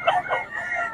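Chickens at a rooster sale, with a crowing cock and some clucking, fairly close and clear, with no speech over them.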